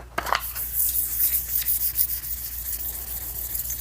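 Light hand sanding across car paint, a soft steady rubbing scrape repeated in short strokes, close and fairly quiet with no talk.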